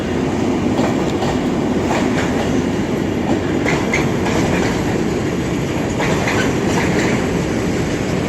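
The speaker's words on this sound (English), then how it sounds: "With a nice long container train" A long container freight train passes close through Crewe station, its loud continuous rumble mixed with steady clickety-clack of wheels over rail joints.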